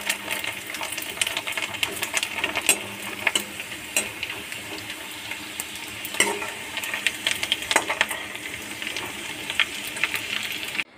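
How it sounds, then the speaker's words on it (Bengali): Papad fries in hot oil in a wok, giving a busy, crackling sizzle with frequent sharp pops and stirring clatter that goes on for several seconds, close and fairly loud, with no speech. "তেল গরম হয়ে গেছে, এবার পাঁপড় দেব।"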